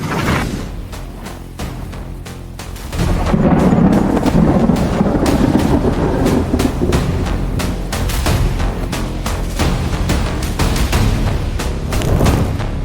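Heavy thunder rumbles and booms through a severe thunderstorm, a deep rolling roar swelling after a quieter start and continuing loud and sustained, with sharp crackles and rain noise over it.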